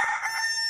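A brief snippet of rooster crowing, a bright sustained cock-a-doodle-doo tone, clear and fairly loud with no talking, cut short.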